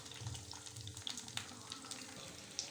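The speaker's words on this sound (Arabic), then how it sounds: "نقلي الباذنجان" Eggplant frying in a pan, a faint, steady low sizzle with small crackles and pops throughout, heard fairly distant and quiet, no talking.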